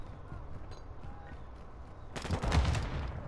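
Shotgun gunfire in Call of Duty erupts as a loud, dense burst in the final second, following a stretch of quiet game ambience.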